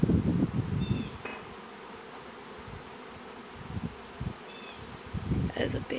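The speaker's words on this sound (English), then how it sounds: "all the bees that were in that little clump Dad just cut down" A swarm of honey bees hums close by, a dense, steady buzz, with a few louder rustling bursts at the start and end.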